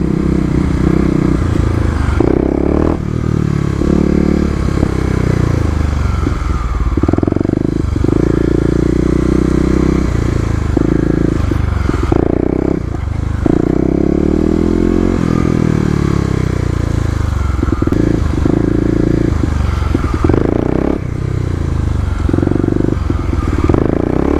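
A 2018 Kawasaki KLX250 dirt bike ridden off-road around an urban area, its engine running steadily and close by, rising and falling with repeated throttle revs and accompanied by intermittent clatter and scraping.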